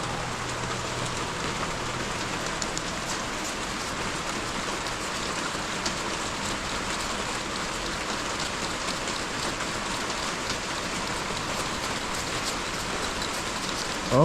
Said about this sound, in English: Oh yeah, it's raining really nice.